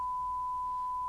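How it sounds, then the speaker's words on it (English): A steady 1 kHz sine wave test tone from the Pro Tools Signal Generator holds unbroken at one pitch, pure and constant, with no other sound. "It's the standard test tone that you get for most engineers to use."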